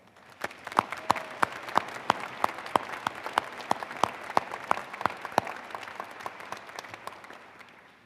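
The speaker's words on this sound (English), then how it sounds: "please give our staff members a round of applause as well" A commencement crowd applauds the ceremony staff, a steady mass of clapping with a few louder individual claps popping out near the front, sustained for about eight seconds before gradually thinning.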